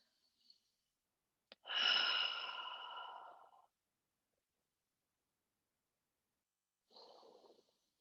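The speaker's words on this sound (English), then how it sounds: "Big deep breath, everybody." One long, close, deep exhale during a yoga session, preceded by a short sharp intake, then silence and a second, softer breath near the end.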